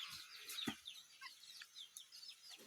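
Chickens and chicks on a farm, with soft scattered clucks and high thin peeping chirps at a moderate distance, faint against a quiet background.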